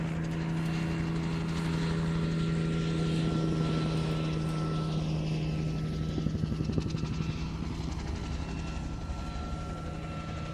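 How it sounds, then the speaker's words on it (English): A helicopter at the Royal International Air Tattoo 2022 airshow, its steady rotor thrum and engine whine droning continuously nearby, with a faint rhythmic chopping growing more noticeable toward the end. "I certainly think we've got some helicopters coming up for you"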